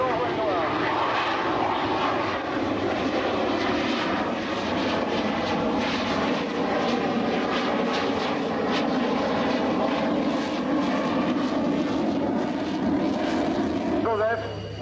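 An F-16 fighter jet landing at a 1993 air show at Cambrai air base, its steady engine roar broad and continuous throughout, with an announcer talking over it.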